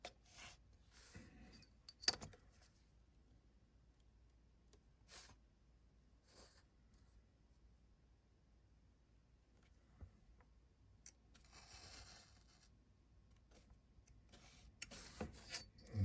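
Faint, sparse scrapes and ticks of a blade cutting a paper model railroad sign along a ruler, with brief rubbing strokes and a small knock, very quiet and alone.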